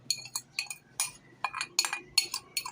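A utensil beats egg batter for an egg and bread halwa, striking the bowl in a quick, uneven run of bright metallic clinks that stay close and fairly loud, with no talking.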